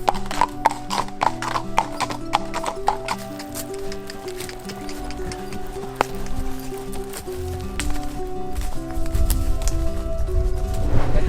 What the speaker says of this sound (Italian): Ok, siamo a cavallo